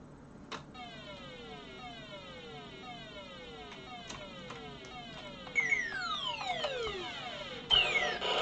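BBC Micro Model B game beeps from a Galaxians-style game: repeated descending electronic tones sweep down in quick succession, faint and synthetic, ending in a burst of noisy static.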